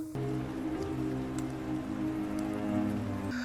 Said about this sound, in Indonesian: prosesi pemakaman diiringi hujan yang mengguyur deras